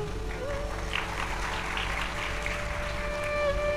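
Continuous applause from a large audience at a Bhagavat katha religious discourse, a dense, steady clapping texture that holds at an even level for the whole stretch.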